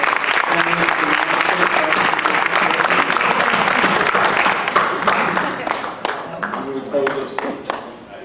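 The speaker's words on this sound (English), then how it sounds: "Please join me in giving a round of applause to Alan LaVine and Mick Tuck." An audience at a Republican party debate gives the two candidates a sustained round of applause, dense clapping that holds steady and then thins out toward the end.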